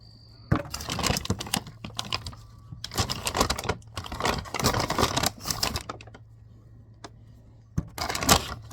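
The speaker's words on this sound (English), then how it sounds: "So I'm just going to get them all cut up" Seed potatoes are cut up and tossed into a crate, giving close clusters of dull knocks, thuds and scraping handling noises in uneven bursts with short pauses between them.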